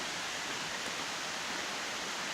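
Water rushes through a series of canal locks along a coastal hiking path in Wales as the level is let down. The roar is steady and broadband, close and continuous, with no voices.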